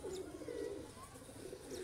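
Pigeons coo softly in a low, rolling murmur that runs steadily throughout, with faint chirps from other birds now and then.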